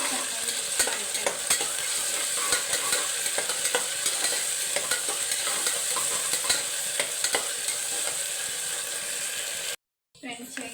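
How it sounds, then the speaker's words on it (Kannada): Ginger garlic paste frying in a pan with onions for spicy veg palav, stirred with repeated quick scraping clicks over a constant loud sizzle, cutting to brief silence near the end. "2 ಸ್ಪೂನ್ ಶುಂಠಿ ಬೆಳ್ಳುಳ್ಳಿ ಪೇಸ್ಟ್ ಹಾಕಿ ಚೆನ್ನಾಗಿ ಮಿಕ್ಸ್ ಮಾಡ್ತೇನೆ"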